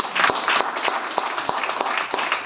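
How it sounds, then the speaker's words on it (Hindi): Audience applause at a venue closing event for a business leader, a dense crowd clapping with sharp individual claps popping through the steady wash. "एक जोरदार तालियां"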